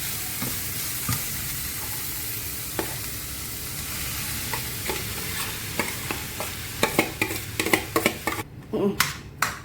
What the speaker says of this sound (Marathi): आणि त्यामध्ये मी हे बटाटे सोडत आहे।